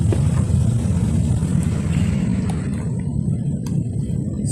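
A motorcycle engine rumbles steadily close by, a deep continuous low drone with a faint higher whine, holding at a fairly even loudness.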